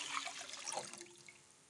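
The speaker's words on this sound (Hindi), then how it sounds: "यहाँ पे मैंने ली है बर्तन, 1 लीटर हम पानी डालेंगे" Water pours into a cooking pot as a steady splashing stream, a litre being added for a sharbat syrup, fairly close and tapering off slightly toward the end, with no talk over it.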